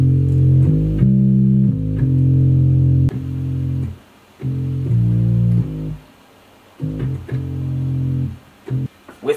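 Deep, sustained bass notes in a hip-hop beat, with low chords holding in long phrases and short rhythmic stabs near the end, separated by brief gaps, loud and with no voice over them.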